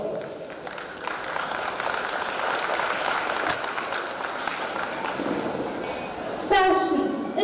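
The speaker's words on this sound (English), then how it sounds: "round of applause." A school audience applauds at a parents' night. Broad, steady clapping fills a reverberant hall, and a tonal sound, likely music, rises near the end.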